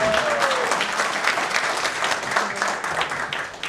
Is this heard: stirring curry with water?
no